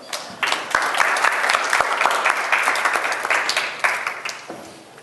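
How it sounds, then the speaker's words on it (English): A room of people applaud a doctor after a patient interview demonstration, a dense burst of clapping lasting several seconds before it thins and fades out. "Let's give him a round of applause."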